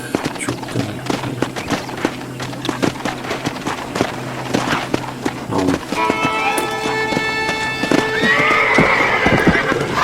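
A horse in Red Dead Redemption gallops with rapid, loud hoofbeats, then gives a long shrill whinny over continuing movement.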